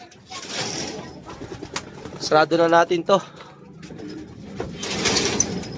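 Pet pigeons coo softly near a loft, their low calls mixed with someone speaking close by and some background outdoor noise.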